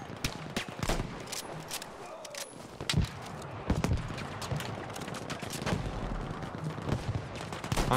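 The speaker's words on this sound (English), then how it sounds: "He's just straight up throwing dynamite over the walls." Dynamite explosions and gunfire in the Battlefield V shooter: repeated sharp blasts and rapid shots in an ongoing battle, fairly loud, with some softer muffled booms and movement noise between them.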